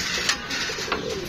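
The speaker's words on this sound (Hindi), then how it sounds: "और उसके बाद ये कबूतर है" A pigeon coos softly over steady background hiss, a faint, low call from a kept bird with no speech.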